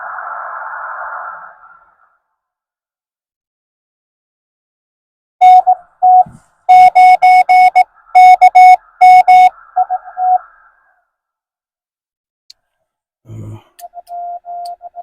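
Morse code CW radio tones beep in short and long bursts at a steady pitch during a Parks on the Air activation from a provincial park, after an opening burst of static hiss and a quiet pause, with a few more tones near the end.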